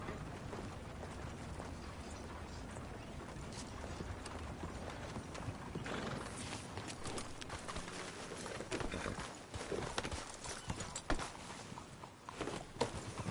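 Horse hooves clip-clop as a mount is ridden in a PlayStation 4 video game, a steady, even patter of hoofbeats that continues throughout at moderate volume with no talk.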